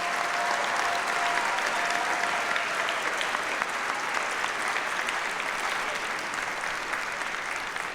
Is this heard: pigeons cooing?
no